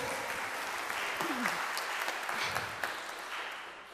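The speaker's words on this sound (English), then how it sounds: "We should clap for them, right?" Steady applause from a church congregation at a combined Sunday service, cheering on the kids, a soft continuous patter of many hands with a brief voice over it, fading slightly at the end.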